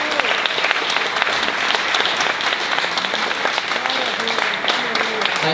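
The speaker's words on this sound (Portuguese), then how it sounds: "Pode aplaudir o Senhor." Church congregation applauding during a Brazilian sermon, dense sustained clapping filling the hall, with faint voices rising through it.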